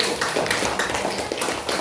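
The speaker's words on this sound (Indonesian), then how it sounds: "tepuk tangan untuk kelompok 1" A classroom applauds a student group, a dense burst of many hands clapping quickly, loud and close, lasting about two seconds.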